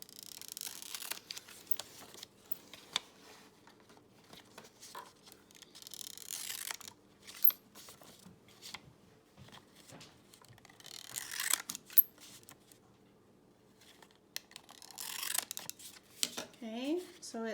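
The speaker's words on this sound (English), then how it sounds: "we decided it would be fun to round the corners. So we have scissors that will do just that." Several short bursts of snipping and paper rustling come up close and intermittently, separated by quiet pauses, like scissors rounding off paper corners.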